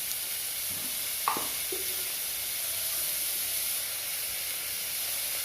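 Onions sautéing with salt in a pan for chicken curry give a steady, close hiss and sizzle, broken by a single spoon knock and a brief stir.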